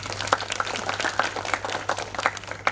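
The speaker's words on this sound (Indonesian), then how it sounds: "Tepuk tangan dulu." Audience at a monologue theatre performance clapping for the production crew, a modest group of close, distinct hand claps at an uneven rhythm.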